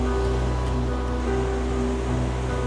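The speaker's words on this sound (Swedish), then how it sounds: "Att det var coolt när vattnet går in där nere i..." Sea water surges into rocks below a coastline in Morocco during an adventure race, a steady, close wash of rushing surf with a low rumble and no voices.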